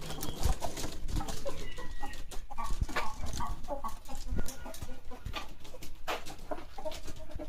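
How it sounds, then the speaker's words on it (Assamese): Chickens on a broiler poultry farm cluck and squawk continuously, a dense flock heard close and fairly loud with overlapping calls throughout and no talking. "এতিয়া ইয়াতে আছে কিছু মুৰ্গী, চাওক"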